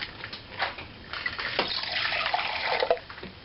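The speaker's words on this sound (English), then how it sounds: "Let's put some water in the pot and try it here" Water is poured into a pot sitting on a white box-style stove, a close splashing gush that rises and falls in strength over a few seconds.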